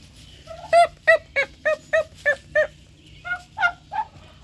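A male turkey calls back with a run of about seven loud, evenly spaced yelping notes, then three more after a short pause. The calls are close and clear over a quiet background.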